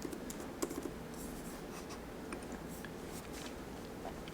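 Pen writing on paper while totaling credit card debts, faint scratchy strokes with a few light taps, quiet and close with no talking.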